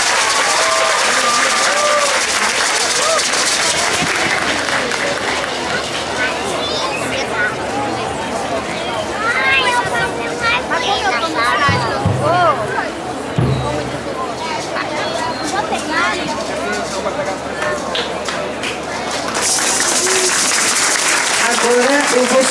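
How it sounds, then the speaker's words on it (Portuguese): An audience claps in the multiethnic tent at the FICA 2025 festival. A loud burst of applause opens and closes the stretch, with crowd chatter and a voice talking in between. "Palmas para o MCP."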